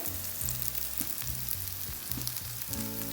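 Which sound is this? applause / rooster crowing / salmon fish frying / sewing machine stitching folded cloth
salmon fish frying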